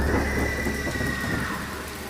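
Steady, dense rain pours down continuously, a broad hiss with a low rumble beneath it and no voices.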